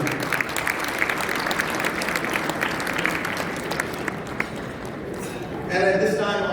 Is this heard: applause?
yes